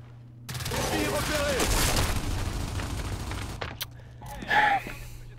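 Automatic weapon fire rattles in the Gears 5 multiplayer shooter, a dense burst of rapid shots with booming effects that breaks off and is followed by a sharper blast.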